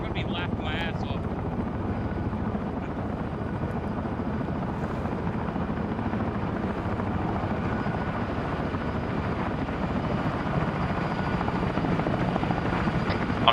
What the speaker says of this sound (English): If that helicopter misses the deck, lands in the water, I'm gonna be laughing my ass off.